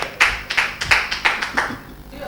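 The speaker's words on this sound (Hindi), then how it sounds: "तालियों से स्वागत।" A small audience at a Holi poetry programme claps to welcome a poet, about seven distinct, fairly close claps in a loose rhythm, fading at the end.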